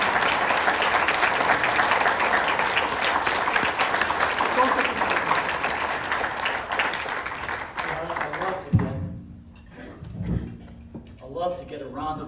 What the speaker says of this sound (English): I love to get a round of applause when I'm introduced